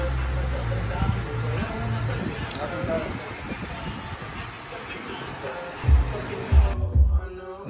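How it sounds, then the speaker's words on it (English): A BMW E60 M5 car engine idles steadily and close by, a low continuous rumble with a few louder throbbing surges near the end. "But we good, car's running."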